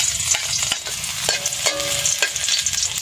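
Onions sauté in a hot pan with a close sizzle, broken by repeated scraping and knocking strokes of a utensil stirring them, and no voices.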